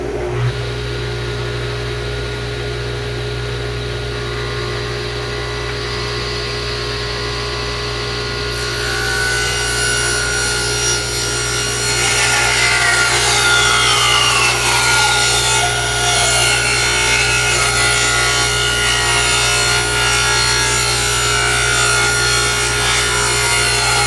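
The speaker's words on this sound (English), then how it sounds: "But I'll start by cutting a strip to width." A saw rips a strip of wood to width in a workshop during a room divider restoration, a steady loud whine with motor hum that rises in intensity as the blade bites into the timber.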